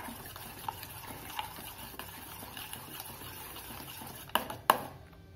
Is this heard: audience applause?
no